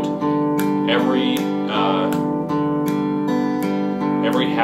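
Guitar notes plucked on every half beat ring out in a steady, even pulse of sustained tones, played alone and up close with no talking.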